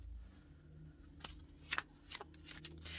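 Paper envelopes from a mail package are handled quietly, giving a few soft rustles and sharper crinkling flicks spread across a few seconds, close by and faint, with no talk.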